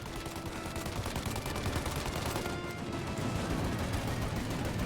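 Heavy gunfire rattles through a shootout in Mafia: Definitive Edition, with continuous machine-gun bursts and overlapping shots, loud and relentless for the whole stretch.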